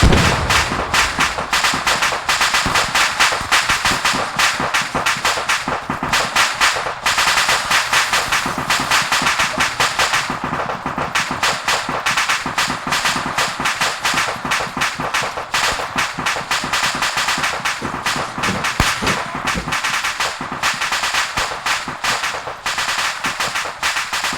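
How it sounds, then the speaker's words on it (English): A battlefield in the ArmA 3 video game, where a heavy explosion is buried in sustained, loud crackling gunfire and blasts that run unbroken for about twenty-four seconds, with no voices. "I didn't think the explosion would be that big"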